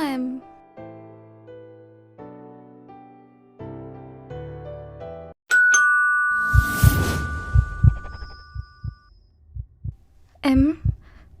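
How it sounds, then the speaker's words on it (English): A doorbell chimes through a series of descending and rising tones, then a bright ding rings out over thumping sounds and brief voices. "somebody just rang your doorbell."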